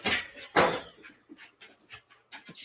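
A large dog whimpers and pants in quick, close, uneven breaths and whines, mixed with soft rustling, in a quiet home.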